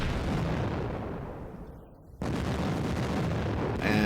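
Heavy siege gun artillery fire in the wargame Panzer Campaigns Bulge 44: a dense, loud rumbling blast that sustains, dips briefly, then slams back in with a fresh heavy boom and crackle near the end.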